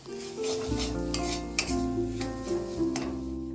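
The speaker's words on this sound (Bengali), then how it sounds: "আলুটা ভালো করে মশলা দিয়ে ভাজা হয়ে গেছে" Potatoes frying with cumin and black pepper powder sizzle in a pan while a utensil stirs and scrapes against the metal, with a few clinks over the steady sizzle.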